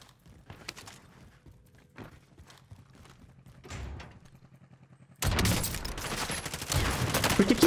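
Several sharp sniper rifle shots ring out one by one in a video game, quiet and spaced apart, and then a louder, denser burst of game noise takes over toward the end.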